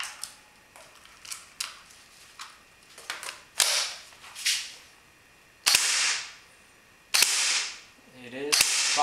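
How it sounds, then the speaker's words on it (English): An ARES Amoeba airsoft rifle with a 110 mm tight-bore barrel and a 110 spring fires a series of sharp snapping shots. Some come singly and some in quick pairs, each followed by a short hiss, loud and close. "It is firing, so we'll measure the FPS."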